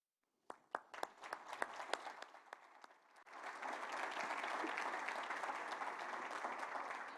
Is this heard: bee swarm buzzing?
no